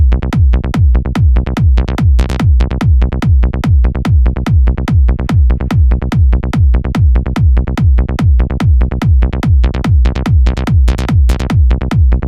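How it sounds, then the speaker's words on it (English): Short, snappy sawtooth synth bass with overdrive, locked to a punchy kick drum in a fast, relentless modern trance rolling pattern, loud and even throughout, with no voices. "It's a very short and snappy saw bass with some ODT on it."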